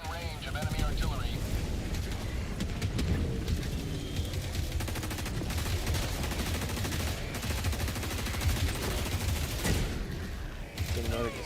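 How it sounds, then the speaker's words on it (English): Artillery and gunfire in a Halo battle, a dense, continuous roar of shots and blasts filling the whole stretch, with voices talking over the din. "Warning, you are in range of enemy artillery."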